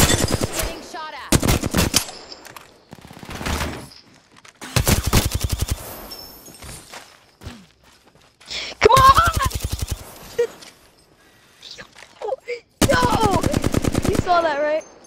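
Bursts of automatic gunfire in the battle royale game Apex Legends, several loud rapid volleys separated by brief pauses and softer shots, close and punchy throughout.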